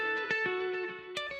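A distorted, effects-laden electric guitar plays a lead melody over the chords of a pop track, with sustained bright tones and a few sharp plucked attacks that stand alone without any voice.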